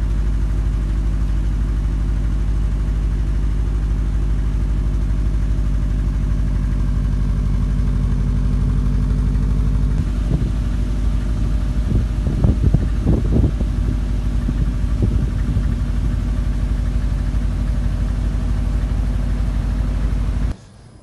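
A Subaru Impreza WRX STI rolling down a forest track in miserable weather, its engine a steady low drone heard from inside the car, with a burst of bumps and knocks midway as the car crosses rough ground.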